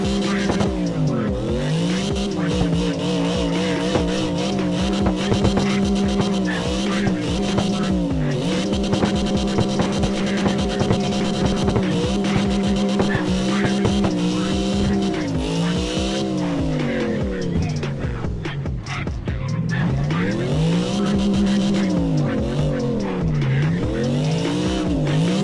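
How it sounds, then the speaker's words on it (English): A loud car engine in the video game CarX roars steadily, its pitch climbing and dropping in repeated sweeps like gear changes, with brief tire squeals, sounding continuous and close throughout. "Man, the car's loud."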